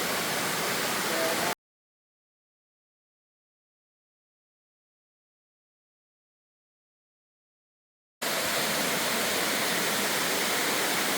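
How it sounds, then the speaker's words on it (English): Loud, constant roar of a waterfall splitting into multiple falls on Mount Moosilauke along the Appalachian Trail, close and uninterrupted, breaking off into total silence for several seconds before returning just as strongly. "And here we have where it's split up into multiple waterfalls."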